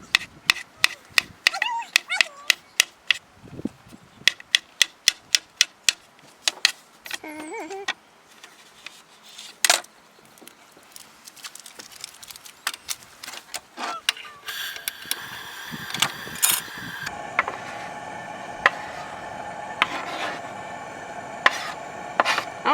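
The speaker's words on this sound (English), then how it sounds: "You got mushrooms here. We're gonna slice these up." Mushrooms sliced with a knife on a board outdoors in the woods, heard as a quick run of sharp, close chopping taps. A few scattered knocks and brief squeaks follow, then a louder, steadier hiss and sizzle takes over near the end.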